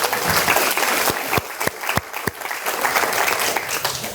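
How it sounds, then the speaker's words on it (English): Applause from a chamber of commerce lunch audience: a fairly soft, steady patter of many hands, with a few sharper individual claps standing out, continuing throughout. "Let's give them a big round of applause."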